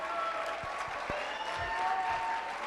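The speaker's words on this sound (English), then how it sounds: "Please give them a round of applause." Steady applause from an audience at a celebration event fills the space, dense and sustained throughout, with no speech over it.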